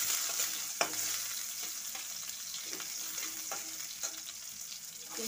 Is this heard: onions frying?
yes